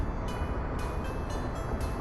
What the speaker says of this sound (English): Train's arrived.